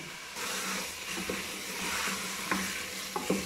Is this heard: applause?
no